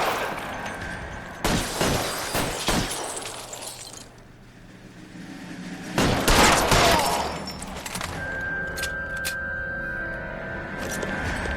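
Shotgun blasts and chaotic gunfire during a video game house shootout, two loud clusters of shots separated by a quieter stretch, with lingering background noise and tones.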